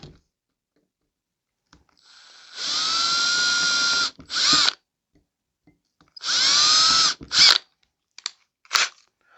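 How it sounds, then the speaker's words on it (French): Power drill boring two holes through a mouse trap, mounted as a homemade jaw jacker; two long high whining runs, each followed by short bursts and brief trigger blips, close and alone with no talk. "vu qu'on a déjà notre mèche, on va en profiter pour faire nos trous tout de suite"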